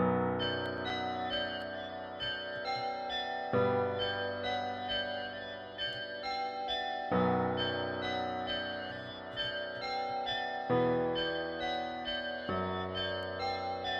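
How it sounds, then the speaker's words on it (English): A processed bell melody in a Memphis-style hip-hop beat, bright ringing tones with a high-cut filter, repeating a short descending phrase in sustained, overlapping notes, steady and alone with no voices. "And with all the effects, our bell melody sounds something like this now."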